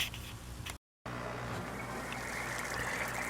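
An air pump bubbles and gurgles in a bucket of vinegar and salt solution, a steady soft trickling wash that drops out briefly near the start, then continues evenly and fairly quiet.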